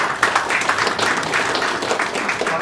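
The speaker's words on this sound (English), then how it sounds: "I'll give him a round of applause," Applause from an audience at a panel discussion on green NFTs, a brief burst of dense, steady clapping close by, with a voice faintly underneath.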